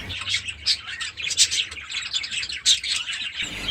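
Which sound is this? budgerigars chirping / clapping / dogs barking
budgerigars chirping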